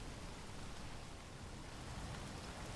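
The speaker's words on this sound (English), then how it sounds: "It hasn't stopped raining yet" Steady rain falls in the video game Space Engineers, a soft, even hiss of drops with no breaks, faint and continuous.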